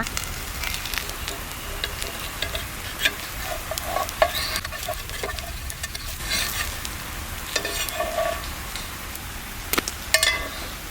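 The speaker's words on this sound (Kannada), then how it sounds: "ಒಂದು ಸೌಟು ಹಿಟ್ಟನ್ನು ಹಾಕಿ ಬಿಡಿಸಿದ್ರೆ ಆಯಿತು ದೋಸೆ ಥರ ಮಾಡೋದಲ್ಲ" Wheat-flour dosa batter spread from a ladle across a hot pan gives a steady sizzle with soft scraping strokes and a few light clinks, close and alone with no talk.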